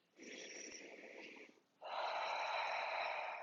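Slow seated chair-yoga breathing: one long, steady inhale through the nose, a short pause, then a longer, fuller exhale, close and audible in a quiet room.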